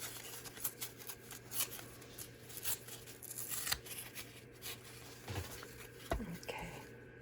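Scissors cut paper for a handmade craft card in quiet, close snips and rustles that come in irregular bursts, with soft handling of the paper between cuts.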